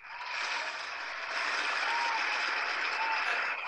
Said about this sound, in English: And the crowd roars.